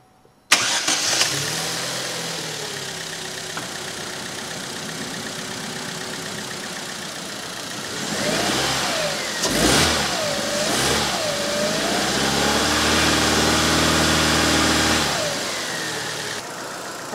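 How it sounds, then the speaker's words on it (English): A Chevrolet Cruze 1.8L engine, just after a water pump replacement, cranks and catches, settles into a steady idle, then revs up several times before dropping back. The engine is close and loud, with no talking. "I'm going to start it up and we're going to watch this coolant level"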